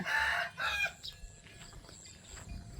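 Chickens crow and cluck at a moderate distance, with two strong calls at the start followed by softer, scattered clucks over faint background noise.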